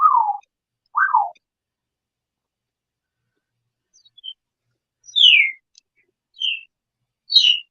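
A parrot gives a few sharp, chirpy squawks with pauses between them: two lower calls at first, then several higher, shrill electronic-sounding bursts, imitating a squawking fire alarm.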